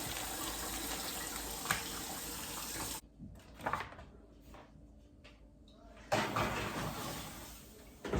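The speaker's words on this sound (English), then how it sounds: "Wash my hands quickly again." A kitchen tap runs loudly while hands are washed under it, the stream cutting off midway for a few seconds of handling clatter before gushing on again.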